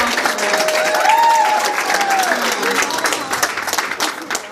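Wedding reception guests applauding, a loud burst of many hands clapping that swells and then gradually thins, with cheering voices mixed in among the crowd.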